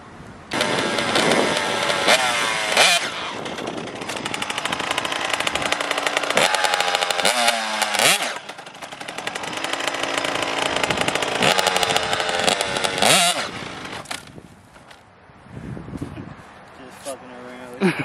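A KTM 85 two-stroke dirt bike being ridden by a first-time rider, its engine revving loud and raspy with rising and falling pitch through most of the stretch, easing off near the end, while people talk over it.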